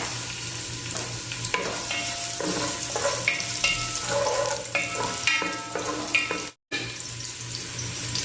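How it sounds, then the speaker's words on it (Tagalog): Ginger dropped into hot cooking oil crackles and sizzles loudly and close, with busy popping throughout and a brief gap near the end. "Lagay tayo ng mantika. Unahin natin ating luya."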